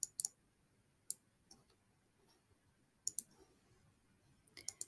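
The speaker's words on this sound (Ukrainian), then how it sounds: "Клацаю по області діаграми." Sharp computer mouse clicks land on a spreadsheet chart area, some in quick doubles and others spaced a second or two apart, crisp and close in an otherwise quiet room.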